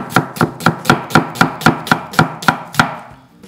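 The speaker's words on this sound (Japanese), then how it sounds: "玉ねぎ切ります" A kitchen knife slices an onion thinly on a cutting board for Korean-style pork bulgogi, about a dozen sharp, evenly spaced chops in quick succession, close and loud, with no voices.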